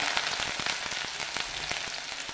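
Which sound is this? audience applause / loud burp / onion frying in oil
onion frying in oil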